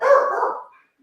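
A single close, sharp dog bark sounds indoors in answer to a knock at the door, then fades into silence.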